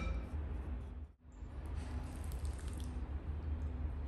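Water sprinkled lightly onto soil over freshly sown lavender seeds, a steady soft hiss and patter of droplets that dips briefly, then continues evenly without any voices.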